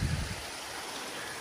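Water rushes steadily through a long channel at a beaver dam, a continuous broadband flowing hiss with a brief low rumble at the start.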